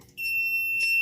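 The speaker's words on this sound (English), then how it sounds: "Red LED, of course, tells you that it's an alarm." A fire alarm on a life-safety panel starts abruptly and holds a steady, piercing electronic tone, loud and continuous, with no voices.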